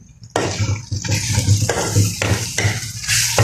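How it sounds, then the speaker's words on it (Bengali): Onions sizzle loudly in hot oil in a pan for a cauliflower and potato dish, a sudden burst of frying followed by repeated stirring scrapes and bubbling crackle, close and steady. "এটাকে আমি একদম ভালো করে ভেজে নেব"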